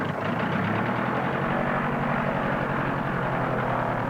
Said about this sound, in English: The last race plane shuts off its engines.